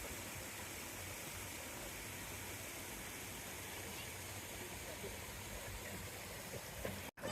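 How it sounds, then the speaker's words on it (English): A waterfall at an outdoor swimming spot in rural Bulgaria roars as a steady, dense rush of falling water. It fills the whole clip loudly and evenly, with a brief bump near the end. "we're gonna let the kids maybe have just a little splash about in the waterfall"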